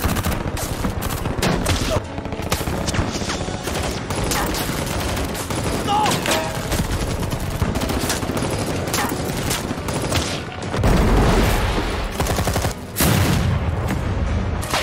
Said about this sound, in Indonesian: Di bawah, baku tembak yang gila terjadi.